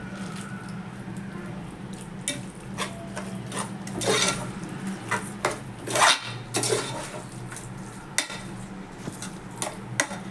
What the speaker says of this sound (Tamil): மசாலாவோடு சேர்த்து மஷ்ரூமோடு சேர்த்து எண்ணெயில் நல்லா மிக்ஸ் பண்ணி விட்டுருணும்